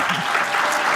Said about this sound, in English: And then everybody clapped